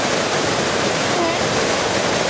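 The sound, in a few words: waterfall at High Falls Gorge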